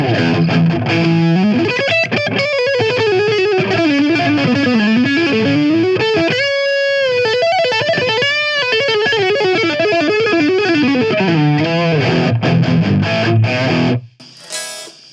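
Electric guitar through a GOKKO MX300 analog pedalboard in boosted distortion mode plays sustained, gritty riffs and held notes, loud and continuous before cutting off abruptly near the end.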